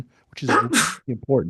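A single sharp sneeze bursts out in the middle of a class lecture, with a person talking just before and after it at close range.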